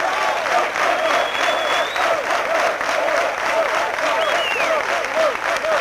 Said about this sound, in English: Joe Holliday returning that applause to his supporters.